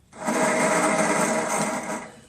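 The electric starter motor of a Toro 6.75HP GTS Recycler 22 self-propelled key-start lawn mower spins with a stripped plastic gear cog, giving a steady whirring whine that starts abruptly, holds for about two seconds and fades, with no talk.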